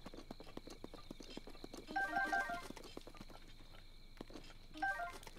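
Horse hooves clip-clopping in the game Zelda: Breath of the Wild, a steady quick rhythm of light hoof beats over faint in-game ambience, with short chiming tones twice.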